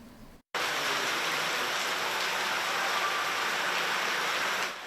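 Heavy rain falling across Mauritius. After a brief quiet gap, a loud, dense and even downpour hiss continues without talk before easing slightly at the very end.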